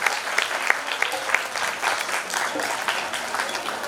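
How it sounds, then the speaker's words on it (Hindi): Steady applause from an audience welcoming a guest being honoured with a sash at a regional group-singing competition, dense clapping held at an even level for several seconds. "तालियां हो जाए इनके लिए।"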